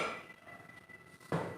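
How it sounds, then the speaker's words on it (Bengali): A metal kadai is set down on a kitchen stove with a single short clunk near the end, after a stretch of faint low hum. "চলো কড়াই বসিয়ে দিয়েছি"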